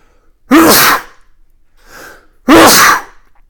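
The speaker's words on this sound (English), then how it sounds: "let me just sneeze" Two loud, forceful sneezes sound close up, with a short quiet breath between them.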